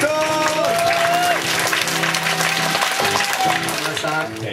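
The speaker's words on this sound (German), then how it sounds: "Applaus, bitte." Audience applause at a children's song concert, a dense, sustained wash of clapping lasting several seconds while music with melodic tones carries on underneath.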